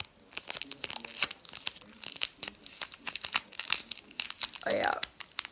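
Adhesive tape being cut and handled while making a paper squishy, with repeated crinkly tearing and snipping noises close by and a short higher squeak near the end.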